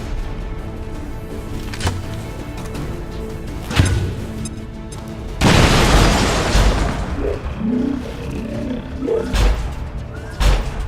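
Frag grenade blast in the video game XCOM 2, a loud booming explosion with a rumbling tail that stands out midway through ongoing game ambience and scattered thuds.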